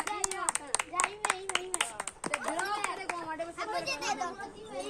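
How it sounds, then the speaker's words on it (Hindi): Children clap their hands in quick sharp bursts while excited kids chatter and talk loudly around them, the claps close and irregular before merging into voices. "तालियां मारो"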